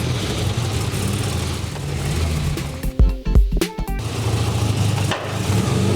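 A Classic Mini on a road test drive, its engine a steady mid-pitched drone throughout, with a brief burst of louder mechanical rattling and thumps in the middle before the steady running resumes.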